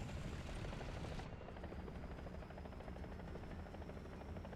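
Helicopter rotor and engine drone steadily in the War Thunder combat game, a loud continuous whirring with faint rhythmic beating and no talking.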